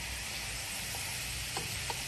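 Garlic sizzling in hot frying oil during Vietnamese home cooking: a steady, close, continuous hiss and crackle with no one talking.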